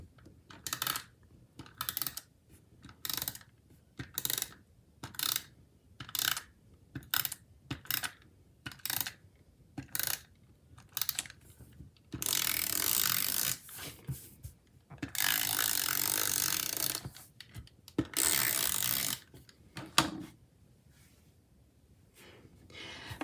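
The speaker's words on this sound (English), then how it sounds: "let's go ahead and tape down these pages" Planner pages being taped down by hand, a series of short crackling tape pulls and presses in an irregular rhythm, with a few longer ripping stretches of tape partway through, close and clear with no voices.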